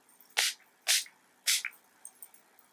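Three quick, crisp spritzes from a spray bottle, evenly spaced and close by, followed by faint small handling sounds.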